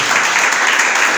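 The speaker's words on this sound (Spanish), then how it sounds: "Aplausos siempre" A church congregation applauding, a brief, loud wash of many hands clapping together with no pauses.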